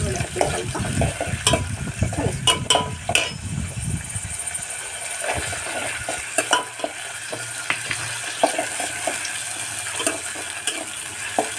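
Green chilies sizzle and crackle steadily as they fry in hot oil in a pan, with occasional stirring scrapes; louder, busier bubbling at first, then a calmer sizzle.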